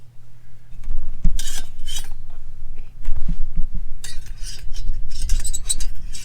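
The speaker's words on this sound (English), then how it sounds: "Put the pot on the stove." A metal pot set onto a small folding camping stove at a reservoir campsite: clanks, scrapes and rattling metal contacts, close and fairly loud, in separate bursts over a few seconds.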